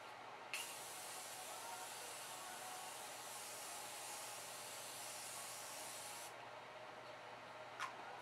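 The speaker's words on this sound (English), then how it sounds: "Now this is more of an aerosol spray." One long continuous hiss of an aerosol can spraying for several seconds, close and steady, ending abruptly.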